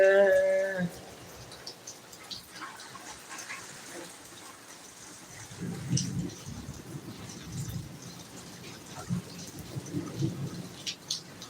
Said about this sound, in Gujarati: જામનગરમાં અત્યારે વરસાદ ને વીજ ને ગાજવીજ સાથે વરસાદ છે